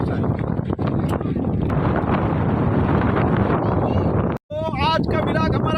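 Strong wind gusting through a rain storm, a loud, continuous roar of buffeting air across the whole stretch, broken by a brief dropout near the end, with a person talking over it afterward.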